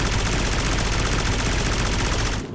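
Gunfire in the video game Aurorio, a loud, dense burst of rapid automatic shots that continues without a break and then cuts off near the end, with no talking over it.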